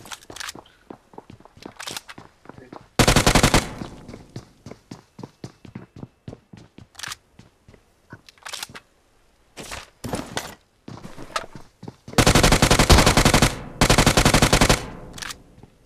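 Gunfire in PUBG Mobile: sharp shots and sustained automatic bursts, loud and close, with two long rapid-fire volleys among scattered single shots and quiet footsteps-like taps between.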